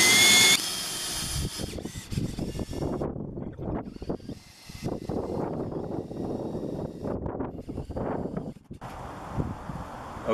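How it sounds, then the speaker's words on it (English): A power drill fitted with a Forstner bit bores a hole while mounting an EV charging station, a fairly close, uneven grinding whir that rises and falls through a ten-second run. "So with my nice Forstner bit, I put the point right in the middle, and then I start drilling."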